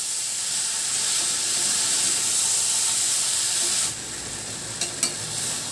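Soya chunks and pumpkin sautéing in spices in a pan give a steady close sizzle and hiss, with soft stirring scrapes near the end.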